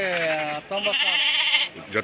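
Sheep bleat at a busy livestock market, two or three loud, wavering calls close by, with voices overlapping them.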